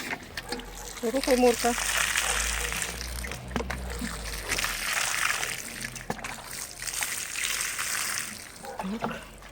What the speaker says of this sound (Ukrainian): поливаємо ямки водою.